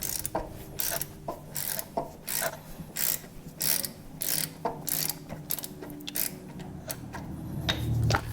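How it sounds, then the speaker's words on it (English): A ratchet loosens a 12 mm bolt on a Kubota BX23s tractor during a hydraulic filter change, giving a steady series of sharp, close clicking bursts in an even rhythm, alone without talk. "So I'm just going to take that 12 millimeter and get on that bolt here and loosen that up."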